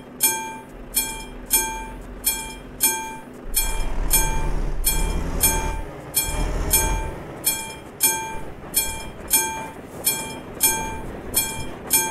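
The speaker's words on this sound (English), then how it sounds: "That's first time I've heard the train." A train in Euro Truck Simulator 2 clatters along the tracks in a steady repeating rhythm of sharp metallic beats, with a deep rumble swelling in the middle as it passes close.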